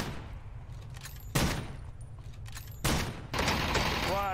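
Bursts of gunfire in the shooter game Ring of Elysium crack out in two sharp volleys and a third sustained burst over a low, steady background rumble, fairly quiet overall.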